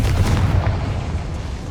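A Confringo fire-blast spell goes off in the Hogwarts Legacy video game as a dense, loud, rumbling explosion that fills the whole short moment.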